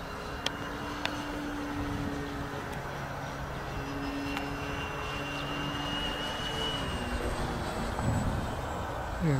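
A radio-controlled Focke-Wulf FW190 model airplane flying, its steady electric motor drone carrying at a moderate distance with a slight pitch shift near the end, a few faint clicks and no talking over it.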